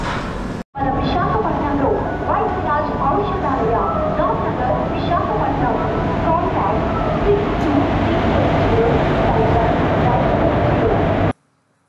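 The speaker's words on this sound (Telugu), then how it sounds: "ఇది తిరుపతి పూరి ట్రైన్ అండి" The Tirupati–Puri train pulls into a station with a continuous, loud rumble and clatter under a person's talking, cutting off abruptly at the end.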